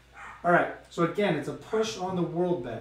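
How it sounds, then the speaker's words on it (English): A dog barks excitedly upstairs, sharp yips and woofs breaking out repeatedly while someone talks over them in the foreground. "if you can hear the dog going ballistics upstairs"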